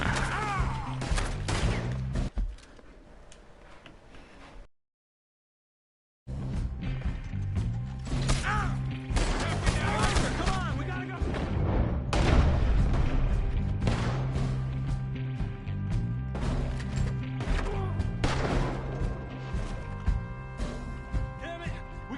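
Gunfire and clanking weapon mechanisms in Red Dead Redemption 2, a busy, dense run of sharp shots and metallic clicks under game music. A short silent gap breaks it early on.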